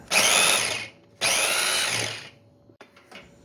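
Boiled chickpeas are ground in a kitchen mixer jar in two loud whirring bursts of a high motor whine, each about a second long, followed by faint rattling and quiet.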